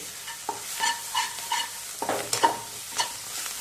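Onion masala with garam masala and turmeric is sautéed in a pan: a spatula scrapes and stirs in repeated bursts over a soft, continuous sizzle.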